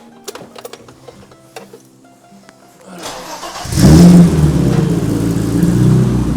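A 1986 BMW 325i M-tech straight-six cranks, catches and revs up loudly nearby, settling into a strong, steady high idle; brief voices and clicks come before the start.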